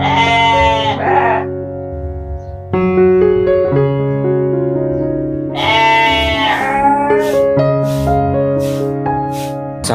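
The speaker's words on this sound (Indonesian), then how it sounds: "ini adalah ternak kambing" Several goats in a goat shed bleat loudly and repeatedly, their overlapping wavering calls close by and alone, with no talking.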